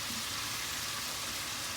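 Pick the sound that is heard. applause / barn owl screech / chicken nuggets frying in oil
chicken nuggets frying in oil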